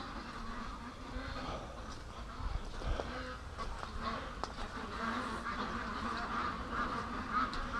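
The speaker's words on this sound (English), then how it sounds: "Okay, the ducks are being really weird here." Free-range domestic ducks quack softly and irregularly outdoors, faint calls scattered over a steady low background murmur.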